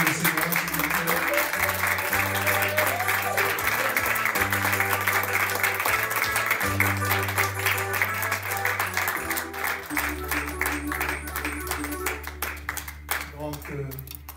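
A church congregation claps and cheers for the Lord during a seminary gathering, with dense, steady applause over a sustained backing of music and voices for the whole stretch.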